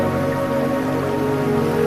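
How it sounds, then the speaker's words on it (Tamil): Continuous rainfall heard up close, an unbroken hiss of falling drops at an even level with a soft underlying drone and nobody speaking. "மழை தொடர்ந்து பொழியட்டும்"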